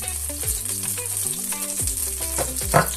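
Sausages sauté in oil in a pot, a soft sizzle under repeated scraping and knocking of a utensil against the pot.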